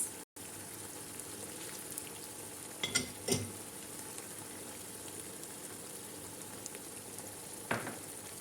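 Eggs frying with minced meat in a pan make a soft, continuous sizzle with a couple of brief clatters of a utensil against the pan.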